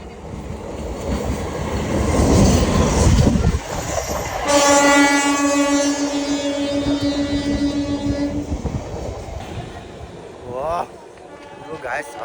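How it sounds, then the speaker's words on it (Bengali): A full train passes close in front near a level crossing, rumbling and clattering, with a long loud horn blast in the middle. People talk over the noise. "পুরো ট্রেন সামনে দিয়ে আসছে"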